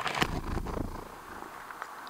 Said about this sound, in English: Some of that was purring.